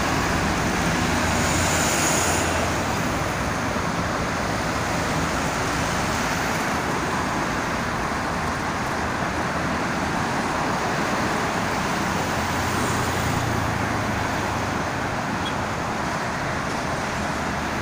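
Heavy holiday traffic on the Jakarta-Cikampek toll road, crowded mostly with private cars: a steady, dense roar of vehicles that runs without a break, with no voices.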